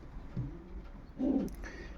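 Breeding pigeons in a loft give a couple of soft, low coos at close range, a short one followed by a longer, fuller one, with faint rustling in between.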